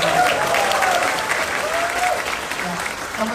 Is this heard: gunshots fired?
no